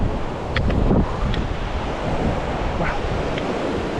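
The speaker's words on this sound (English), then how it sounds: "I love the sound of water." Ocean surf washing steadily onto the shore, a broad continuous roar with soft swells of breaking water, mixed with gusts of wind buffeting the microphone, loud and close with no voices.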